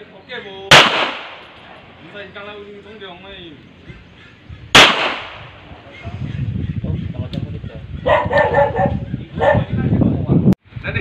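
Two sharp, loud gunshots crack at a practice shooting session, well apart, each with a quick decaying echo, while people talk and give instructions around them and a faint dog barks.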